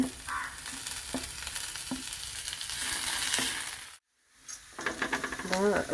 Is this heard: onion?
yes